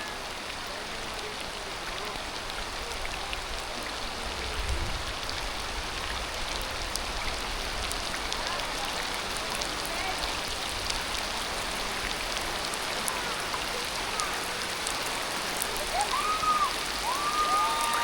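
Rain falls steadily as an even, close hiss for the whole stretch, with a faint tonal sound briefly near the end.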